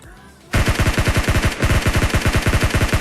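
An AKM assault rifle with a laser sight fires in PUBG Mobile, loud full-auto bursts of rapid evenly spaced shots. A brief pause comes before the first burst and another mid-stream.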